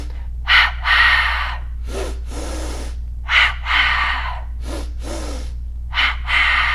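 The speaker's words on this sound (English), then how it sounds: "the double breath is 2 inhales through the nose, 2 exhales through the mouth" Yoga double breath repeated in pairs: two quick sharp sniffing inhales through the nose followed by two longer, breathy exhales through the mouth, close and loud, cycling three times with no talk.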